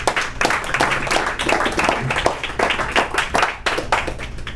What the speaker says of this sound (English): Them claps need some work.